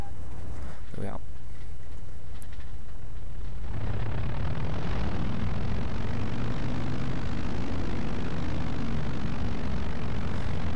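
A small, light propeller fighter plane in the IL-2 Sturmovik 1946 flight game, Polish campaign. Its engine swells at about four seconds into a loud, steady droning roar that holds to the end, with a voice speaking over it.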